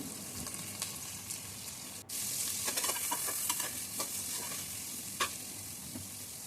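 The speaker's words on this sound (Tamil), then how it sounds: "வெங்காயம் போட்டு நல்லா வதக்கணும்" Onions and green chillies sauté in a pan for chicken biryani, a soft steady sizzle broken by scraping spatula strokes and light clinks, heard close with no talking.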